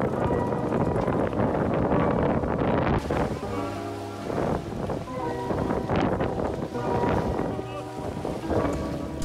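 Strong, gusty wind buffets the microphone at a lakeside fishing competition, with heavy roaring bursts rising and falling over several seconds and faint voices carried underneath.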